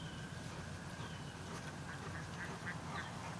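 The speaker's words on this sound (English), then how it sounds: "Ducks are having a little bit of a party down at the creek here." Ducks quacking down at a creek where they swim and play in the water, a run of repeated quacks rising toward the end over a steady outdoor background, moderately distant, with no voices.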